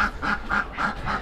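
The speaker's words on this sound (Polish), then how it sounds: "Kaczki się śmieją." Several ducks quack in a steady rhythm, about five loud nasal calls in quick succession, close by with no talking.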